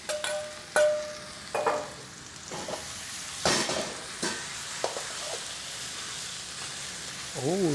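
Almost-cooked beef goes back into a hot pan of stir-fried vegetables for an Asian-style stir fry, sizzling with a few sharp spatula clinks and scrapes against the pan.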